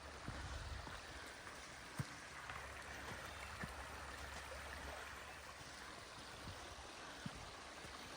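Faint, steady murmur of a stream flowing in the woods, with a few soft clicks and taps scattered through an otherwise quiet outdoor scene.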